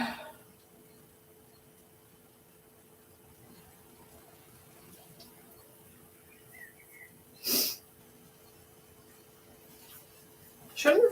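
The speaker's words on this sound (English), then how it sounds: "No wonder I'm sneezing." A person sneezes sharply once midway through a quiet indoor stretch, then makes a second loud sneeze or burst at the very end.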